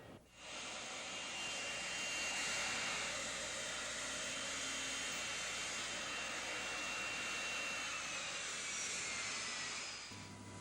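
A steady, loud broadband jet roar from an airliner engine at the Montgomery airport holds for about ten seconds, rising at the start and easing slightly at the end, with no talking.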